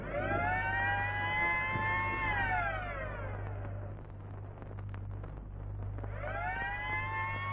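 An ambulance siren wails in long rising and falling sweeps, fairly faint and distant over a steady low hum, with no talk.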